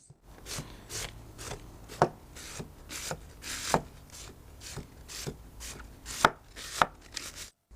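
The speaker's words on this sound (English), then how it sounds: "We've chopped the whole pile like this." Knife shredding a pile of cabbage for barrel-style sauerkraut, heard as a steady run of quick chopping strokes on a board, each a dry crunch, with a few sharper, louder knocks standing out, close and alone without talk.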